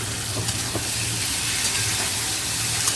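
Garlic frying in oil in a pan, a steady close sizzle with a low hum beneath and no voices.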